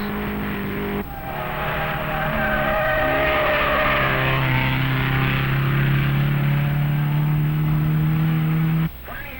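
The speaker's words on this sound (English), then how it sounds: "Look at Blanchard take corner 6" 1959 SCCA sports racing cars at Road America roar continuously through a corner, engines sustained and loud with a rising drone across most of the stretch and a sharp drop near the end.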